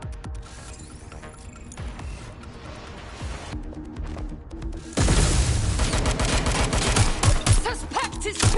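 Gunfire from a suspect in the video game Watch Dogs Legion, dense bursts of rapid shots crackling through the whole stretch, growing louder and heavier in the second half.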